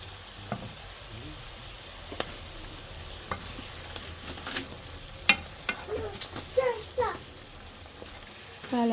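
Carrots and mushrooms soften in a pan with a squeeze of lemon juice. A faint, even crackle runs throughout, with sparse utensil clicks and brief bursts of voice near the end.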